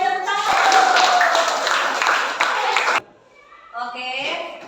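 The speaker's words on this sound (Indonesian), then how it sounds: "Oke, tepuk tangan." A classroom bursts into clapping after a group presentation, a dense close flurry of hands under voices that stops abruptly, leaving a brief lull before a voice speaks again.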